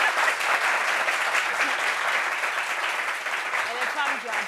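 A television studio audience gives a long, even round of applause for guest Fabrice Dessa on a French-language talk-show set. The clapping stays full and close, and a host's voice speaks over it near the end.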